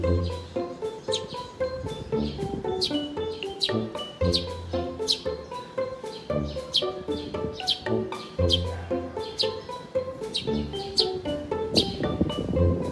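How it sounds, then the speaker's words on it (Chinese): Small birds chirp and squabble in a busy, close flurry of sharp, rapid tweets over a low murmur of background noise, continuous and fairly loud throughout. "不要吵架，小鸟不要吵架"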